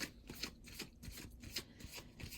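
Oracle cards are shuffled over and over, a quiet riffling and rubbing in quick repeated bursts, close and soft, with no voices.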